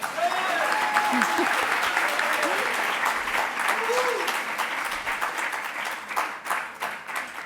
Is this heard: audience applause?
yes